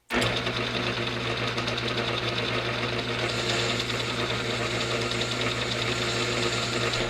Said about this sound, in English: So to fix this, I'm going to remachine my lathe adapter.